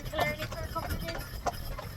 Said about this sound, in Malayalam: ഇവിടുത്തെ അയർലാൻഡിലെ കുതിര വണ്ടിയുടെ എക്സ്പീരിയൻസ്.